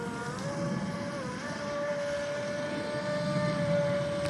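A 25-inch Basketcase stepped-hull RC boat with a changed prop runs on the water, its motor a thin high whine that rises and then holds steady, heard from a distance against wind noise and with no talk.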